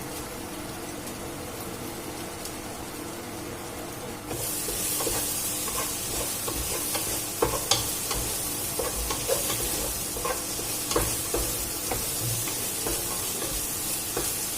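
Carrot and a blended paste stirred and fried in a pan, a soft steady sizzle that jumps to a louder, brighter hiss partway through, with scraping stirring clicks close by and no talking.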